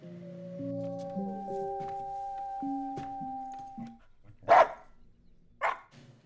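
Music plays in a scene from a zombie film, then a dog lets out two sharp, separate barks a moment apart.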